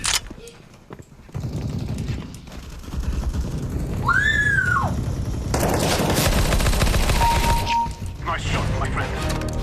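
Counter-Strike: Global Offensive gunfire erupts in dense, loud bursts of rapid shots from mid-clip onward, following quieter game sounds and a brief whistling tone, with players' voices mixed in.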